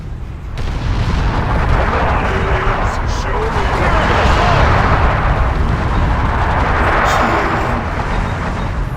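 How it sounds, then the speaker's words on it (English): Explosions from a bombing run in the video game Dawn of War 2 roll in as a loud, continuous wall of booms and blasts, with a voice speaking over the rumbling barrage. "Thunderhawks 3 and 4, follow with bombing run, purification spread."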